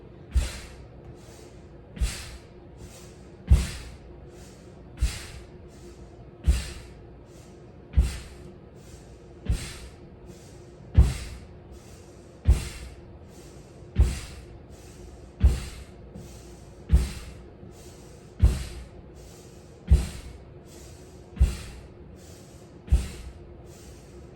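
Forceful rhythmic exhales during a yoga nervous-system warm-up, with the tongue tip held at the palate, repeat about every 1.5 seconds, around sixteen sharp nasal bursts, close and steady, with no talking.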